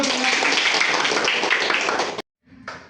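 Students in a classroom give a dense, steady round of applause lasting about two seconds, then it stops abruptly and a brief, quieter sound follows.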